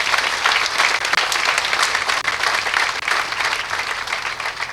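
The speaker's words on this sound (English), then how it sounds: "Let's give them a big round of applause." An audience at a hospital event applauds the nurses, physicians and staff with steady, dense clapping that holds at full strength throughout, with no talk over it.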